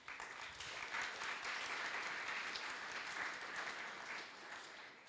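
An audience at a university memorial lecture breaks into sustained applause, dense and steady clapping from a large crowd that carries on at full strength before easing slightly near the end, with no voices over it.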